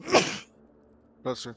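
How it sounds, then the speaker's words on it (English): A sharp, loud sneeze bursts out near the start, then silence, followed by a brief spoken exchange. "Bless you. Sneeze."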